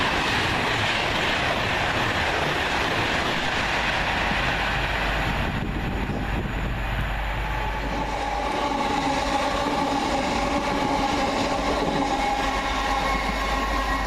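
A Pendolino express train bound for London Euston rushes past at Cheddington, a loud, sustained roar of wheels and rushing air that holds steady for the whole pass before easing into rumbling rail noise as it recedes.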